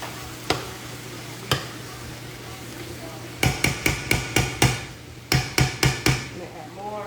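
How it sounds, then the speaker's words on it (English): Smoked sausage frying in a pot is stirred, a low sizzle under repeated sharp spoon knocks against the pot, two single hits then two quick rhythmic bursts of taps, close and fairly loud. "Give this a quick stir so the smoked sausage can fry up a little bit in there"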